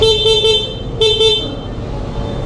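Horn on a 2023 Honda CB650R motorcycle in matte dim gray metallic, sounded in two short bursts of steady, bright tone, the second following about a second after the first, close up and loud over a low background rumble.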